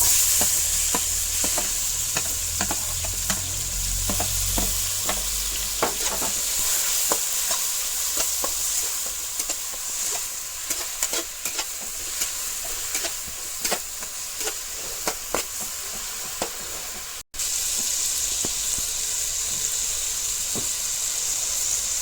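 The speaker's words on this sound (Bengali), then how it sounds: "পেঁয়াজ আর টমেটো এটা এখন তেলের মধ্যে দিয়ে দিলাম" Onion and tomato frying in hot oil in a home kitchen, a steady close sizzle with frequent scraping stirs of a spoon in the pan, continuing throughout without talking.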